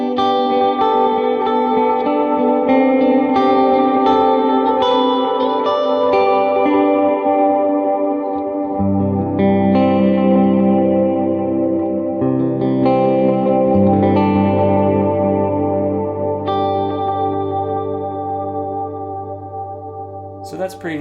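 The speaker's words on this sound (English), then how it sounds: "two kind of darker delays mingling together, and then you add the reverb to kind of smear it out" Sustained electric guitar chords washed in two dark analog delays and reverb, the echoes smearing together into a thick, continuous swell that slowly fades.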